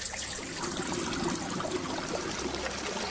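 Water pouring from a bucket in a video game puzzle, a steady splashing trickle of moderate loudness running throughout without talk.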